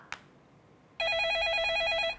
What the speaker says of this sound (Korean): 전화 연결하겠습니다.